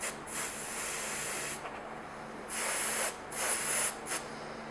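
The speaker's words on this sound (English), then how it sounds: "when I go to airbrush my paint, I can just very gingerly airbrush it on without going over" Airbrush spraying paint onto foam cosplay armor rivets: a soft, continuous hiss that swells into several louder bursts as the trigger is pressed harder, close up with no talking.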